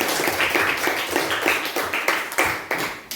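Hand clapping from a children's classroom lesson, with several bursts of claps repeating steadily over a few seconds, fairly close and clear.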